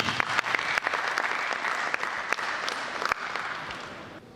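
Wedding guests break into warm applause, a dense clatter of many hands with a few sharper claps standing out, holding steady before tapering off toward the end.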